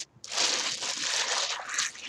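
Air rushing and crinkling out of a plastic Ziploc bag as it is squeezed outdoors, a continuous close hiss with soft crackles lasting about two seconds, no talking.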